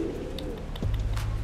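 Pigeon coos from a young bird at a pigeon seller's stall, a low soft cooing that swells near the end over a steady background hum, with no talk.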